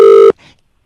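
A loud, steady telephone tone sounds for about a third of a second and then cuts off abruptly as the call disconnects, followed by a brief faint trailing noise and then silence.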